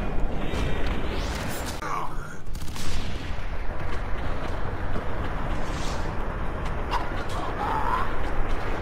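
Rapid gunfire bursts and a grenade blast in the shooter game F.E.A.R., with dense, sharp reports and booming impacts layered over constant background game noise.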